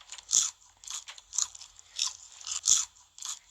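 Crunchy bites of sugar being eaten in a Roblox game, about seven sharp crunches in an uneven rhythm, close and clear, each a short crisp burst with quiet gaps between.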